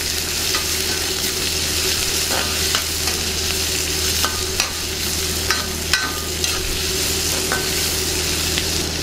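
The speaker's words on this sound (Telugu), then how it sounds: "ఇందులోనే ఉల్లిపాయ ముక్కలు వేసేద్దాం. అలాగే పచ్చిమిర్చి ముక్కలు కూడా వేసుకుందాం." Onion and green chilli pieces sizzle loudly and steadily in a pan of semiya upma, with repeated scraping and tapping from a spatula stirring them close up.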